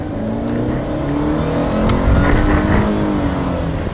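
A Mercedes-Benz C200K accelerating hard from a standstill, a steady loud engine roar that builds slightly in the middle as revs climb, heard from inside the car with no talking.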